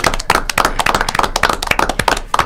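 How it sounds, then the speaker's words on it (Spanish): A small audience claps to welcome prize winners, with distinct, uneven individual hand claps close by, quick and overlapping but sparse enough that single claps stand out. "¿Los saludamos con un aplauso?"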